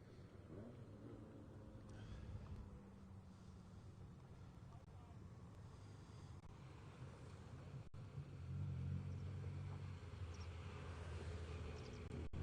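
Rally cars in an Irish motor club hillclimb at Mullinavat make their way back down the course, a continuous broad engine rumble at a moderate distance that swells louder toward the end, with wind noise on the microphone.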